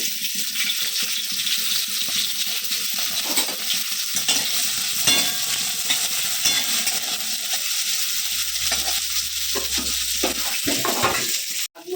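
Chopped flat beans and green chillies stir-fried in hot oil for beto shak, a steady broadband sizzle with scraping stirring strokes throughout, close and fairly loud, no voices.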